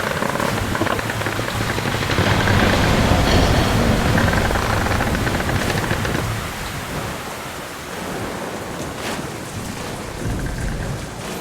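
A howling wind storm in the video game Metro Last Light Redux roars loudly and steadily as a dense wash of rushing noise, then eases slightly partway through.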